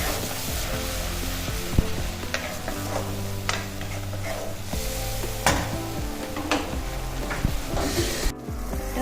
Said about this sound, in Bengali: টমেটোর পেস্টটা দিয়ে দেবো। একটুখানি ভাজা ভাজা হোক